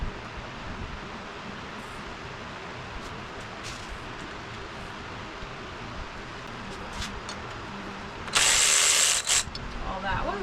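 A ratchet works at stubborn bolts during disassembly of an FC RX-7 coolant system, quiet scattered mechanical clicks under garage ambience, followed by a sharp loud burst near the end.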